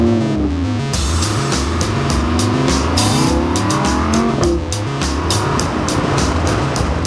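A car accelerates hard through Monaco with a racing driver at the wheel, its loud engine note climbing and shifting steadily against road noise and rhythmic thumps, with no voices.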